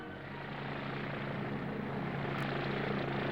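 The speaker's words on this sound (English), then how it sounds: "Moresby carries a small helicopter" A helicopter drones steadily overhead, its rotor and engine roar filling the clip at a constant, fairly loud level with no voices.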